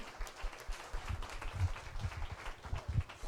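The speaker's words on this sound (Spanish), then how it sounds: "Vamos a darle un fuerte aplauso al Señor" Audience applause fills a church service, a steady wash of many hands clapping at moderate, fairly distant volume, with no clear voices over it.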